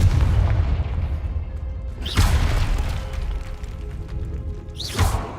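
A Confringo blast spell cast in Hogwarts Legacy, heard as two loud booming explosions with swooshing bursts about three seconds apart over a heavy rumbling game backdrop.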